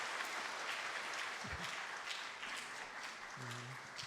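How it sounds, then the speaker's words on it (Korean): A church congregation applauds after a baptism during a Sunday service, a steady, moderately faint wash of clapping that holds throughout with a brief low thump partway through. "우리 박수로 크게 축하해 주시기 바랍니다."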